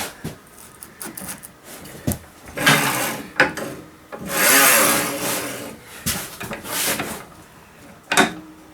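A manual TOPVEI TC-X01 tile cutter, a 1200 mm Hercules-type model, is readied and run across a tile, giving scattered knocks, clicks and a few longer scraping rasps from the scoring wheel.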